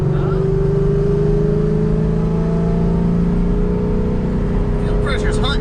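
A coyote-swapped 2007 Mustang GT runs steadily with a loud, smooth engine drone and a deep, even rumble, heard from inside the car as it drives, with light mechanical whir on top.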